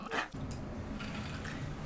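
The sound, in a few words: dog barking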